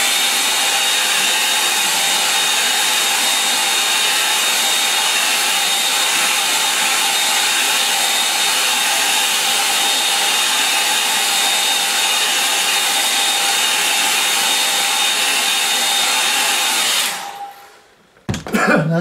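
A hair dryer blows continuously and loudly close by to dry a watercolour wash on a sand dune sky painting, holding a steady whine for about seventeen seconds before switching off abruptly.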